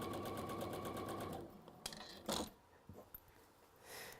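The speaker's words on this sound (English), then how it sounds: "Now this is just basting everything in place." A sewing machine stitches through layered fabric to baste it in place, its needle chattering in a steady rapid rhythm for about a second and a half before stopping, followed by scattered small handling clicks and taps.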